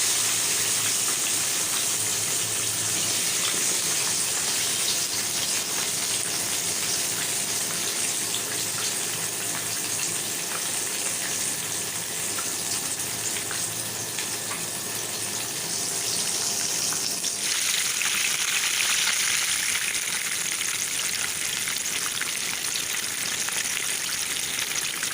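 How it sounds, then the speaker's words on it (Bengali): Chicken pieces frying in a pan, a loud continuous broadband sizzle that holds steady throughout and shifts in tone partway as the pieces are pressed or turned. "3 মিনিট একপাশে ফ্রাই করে নেওয়ার পর আমি চিকেনগুলো উল্টে দিব"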